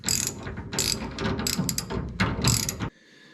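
A wrench snugs bolts on a Ford 9 inch rear end being fitted to a 1955 Chevy, giving a close, busy run of ratcheting clicks and metal clatter for about three seconds before cutting off to quiet.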